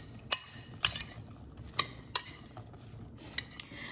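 Salted cucumber pieces for kimchi being tossed in a bowl, with a few sharp utensil clinks and scrapes spaced irregularly over a quiet background.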